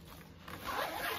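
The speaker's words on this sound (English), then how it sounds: "the zipper in the front" A zipper on a Lilly Pulitzer Disney collaboration bag is pulled open in one steady close rasp that grows slightly louder partway through, with no talking.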